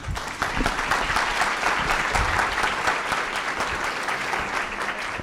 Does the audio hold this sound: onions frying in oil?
no